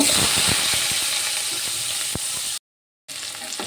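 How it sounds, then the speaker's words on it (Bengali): Pointed gourd frying in white oil in a wok gives a steady, close sizzling hiss with small crackles, cut by a short silent break near the end before the sizzle resumes. "পটলগুলো দিয়ে ভালো করে ভেজে নেব।"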